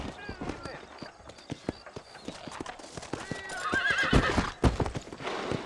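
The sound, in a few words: horse hooves and whinny in Red Dead Redemption video game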